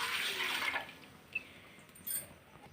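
Water is poured into a cooking pot while making junnu from colostrum milk: a brief, soft hissing pour at the start that quickly fades, followed by faint splashes and a quiet kitchen.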